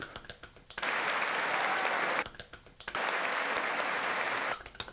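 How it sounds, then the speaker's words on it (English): Two bursts of steady, fairly loud clapping, each about one and a half seconds long, separated by short gaps with faint sounds between them. "Dale una clap ahí"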